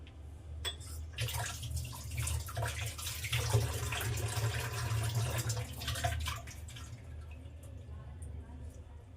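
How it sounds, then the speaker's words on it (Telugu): Water splashes and trickles as lentils are rinsed by hand in a bowl, a steady wet swishing with a low hum underneath. "ఇట్లా 2 సార్లు వాటర్ శుభ్రంగా కడుక్కొని"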